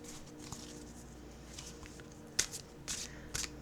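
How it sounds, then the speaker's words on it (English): A large tarot deck is shuffled softly with scattered riffles and taps, faint and close, with a few brief louder card flicks near the end. "sometimes it takes me a little bit longer to shuffle"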